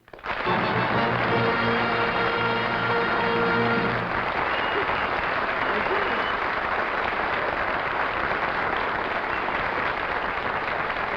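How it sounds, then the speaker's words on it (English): A studio audience at a Red Skelton Christmas show applauds loudly and continuously, with sustained band music over the clapping for the first few seconds before the applause carries on alone. "Thank you very much, ladies and gentlemen, for your generous applause"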